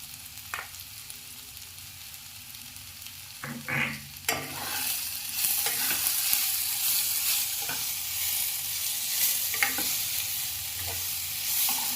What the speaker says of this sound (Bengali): মশলাটা একটু ভাজা ভাজা করতে হবে।